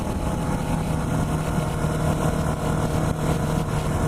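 A 2017 KTM 690 Enduro R riding, a steady, rumbling single-cylinder engine drone with wind noise, continuous and close.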